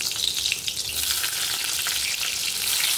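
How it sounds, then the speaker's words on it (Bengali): Sliced pointed gourd frying in hot oil in a pan, a dense, loud, continuous crackling sizzle held close throughout, with no talking. "তেল গরম হয়ে গেছে, এবার পটলগুলো একটু একটু করে দিয়ে দিই"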